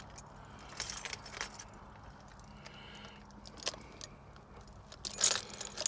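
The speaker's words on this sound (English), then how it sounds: "grabbing the wrong key for this car" Car keys jangle in short metallic bursts scattered through several seconds, with a louder rattling cluster near the end over a low background rumble.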